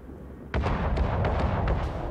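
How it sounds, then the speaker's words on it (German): Naval shells explode in World of Warships: after a brief quiet moment a sudden heavy boom hits, followed by a rumbling series of sharp blasts and pops that continue densely to the end. "Und da hört ihr es, wie die Granaten knallen."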